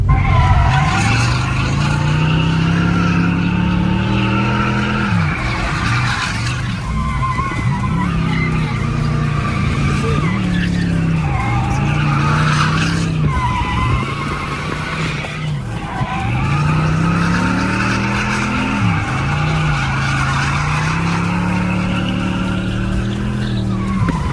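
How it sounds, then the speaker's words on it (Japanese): A Corvette is driven hard, its loud engine droning steadily throughout with rising and falling revs as it shifts through gears, close and continuous from inside the car. "今ジャマールさんのコルベットで一回乗ります。"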